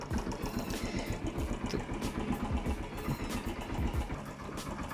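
A 2018 Yamaha YBR 125 motorcycle engine idles steadily at close range, a low continuous rumble with faint mechanical ticking and no talk.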